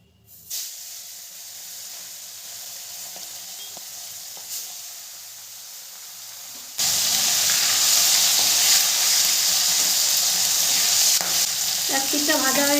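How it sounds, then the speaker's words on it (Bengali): Khoira fish sliding into hot mustard oil in a wok on a gas stove, a quiet hiss that bursts into a loud, steady sizzle with crackling spatter. "এবারে দিয়ে দেবো মাছগুলো"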